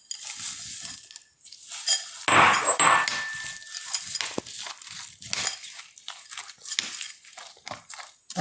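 Almonds, pistachios and cashews being stirred together in a dish, giving a steady scraping and clinking of nuts and spoon against the bowl, close and continuous with no talk.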